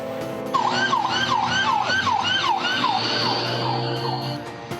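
A fire engine siren in Surabaya, Indonesia wails, rising and falling repeatedly, loud and close, with a steady high tone joining in partway through.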